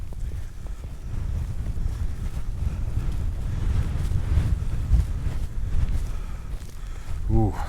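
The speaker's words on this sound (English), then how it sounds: "straight into the flipping wind, which is a bit of a shame" Strong wind buffets the microphone while hiking down into the Long Sleddale valley on a boggy, frozen fell. It is a loud, steady, low roar that swells and eases without a break.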